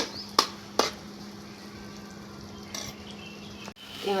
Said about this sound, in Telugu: ఎంత మంచిగా ఫ్రై అవుతుంది ఇంత ఇంత వరకు ఫ్రై చేసుకుంటే సరిపోతుంది